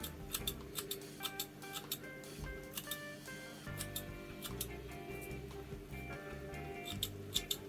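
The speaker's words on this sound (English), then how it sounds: "cut off the long roots." Scissors snip the roots of an Anubias aquarium plant in a series of quiet, crisp clicks, some in quick pairs, against a soft background hum.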